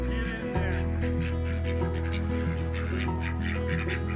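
Loud, repeated honking calls from a group of ducks making their way around a coop through a forest, close by and overlapping in a steady clamor.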